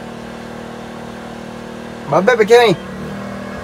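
A truck's APU generator runs with a steady low hum throughout, while someone speaks briefly over it.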